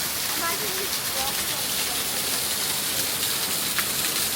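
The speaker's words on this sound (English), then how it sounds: "Little waterfall here." Small rainforest waterfall near Kuranda, a steady broadband rush of falling water that fills the scene evenly, moderately loud and close, with brief faint voices at the start.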